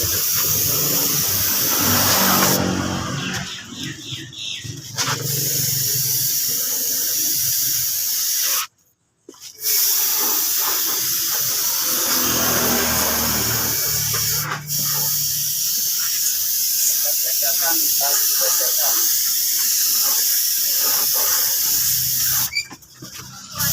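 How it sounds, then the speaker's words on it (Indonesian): Spray gun laying down a white base coat on a motorcycle during a repaint, a loud steady hiss running in long bursts with one brief pause midway and another near the end. "Nah, ini kita semproti warna putihnya terlebih dahulu."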